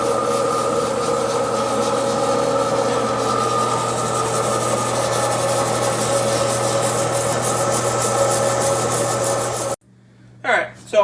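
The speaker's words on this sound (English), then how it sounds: "We'll start out on our heavier grit sandpaper, and we'll spend the most time with it to get the profile that I want." Heavy-grit sandpaper is held against a label cast pen blank spinning on a lathe, giving a continuous close abrasive rasp over the motor's steady hum, which stops abruptly near the end and leaves a few faint knocks.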